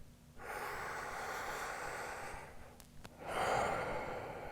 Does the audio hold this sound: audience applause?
no